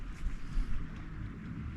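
Strong wind at sea gusts against the microphone in an uneven low rumble, with a soft broadband rush on top, brief and fairly quiet.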